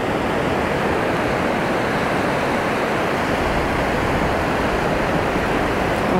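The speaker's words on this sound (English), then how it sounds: "We'll have another good wave here." Continuous roar of ocean surf washing onto a beach, loud and unbroken, with no voices.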